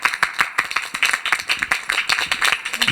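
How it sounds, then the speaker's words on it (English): A small community centre audience claps in a quick, uneven patter of distinct hand claps, close and fairly loud, lasting a few seconds. "let's give Tina a round of applause"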